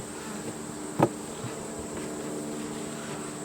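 Honeybees buzz steadily in the top box of a beehive, a close, continuous drone with one brief louder knock or rustle partway through.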